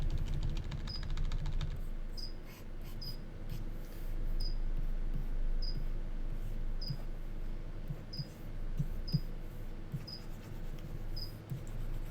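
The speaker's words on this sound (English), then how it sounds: "I hear you chirping away. Yep, the food crickets are going." Feeder crickets kept as live food chirp in a steady series of short, high, evenly spaced pulses, quiet and close, over a low room hum with no talking.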